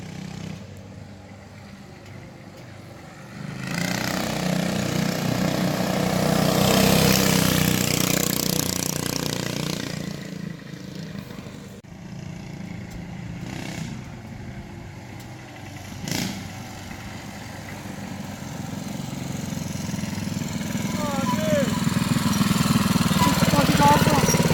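Homemade minibike engine revving and droning as it is ridden around nearby, rising and falling in loudness with passes, a steady motor drone with speech-like voices faintly present at times.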